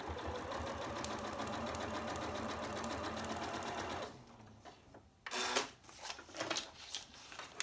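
A sewing machine stitches crumb quilt fabric pieces in a fast, even mechanical rattle for about four seconds, then stops and gives way to quieter handling knocks and rustles.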